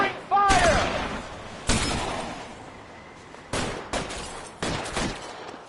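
Gunfire in the L.A. Noire video game: several loud, sharp shots, each with a decaying tail, spaced irregularly across the stretch, with a brief shout at the start.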